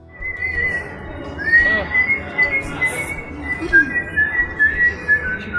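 A Guinness whistling oyster advertisement exhibit gives off a thin, steady whistle, rising and falling in long held tones, moderately loud over a busy indoor background with faint chatter.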